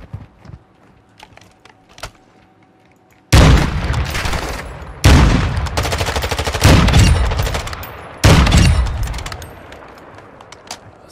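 Gunfire in a video game, loud close bursts of rapid automatic fire in several long volleys separated by short pauses, following a few quieter scattered shots.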